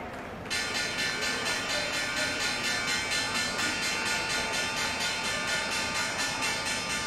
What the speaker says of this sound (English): the closing bell on the New York Stock Exchange,